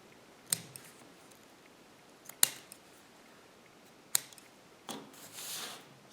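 Scissors snip paper strips for making Brigid crosses, a few sharp isolated clicks spaced a couple of seconds apart, ending in a longer soft rustle, quiet and close with no talking.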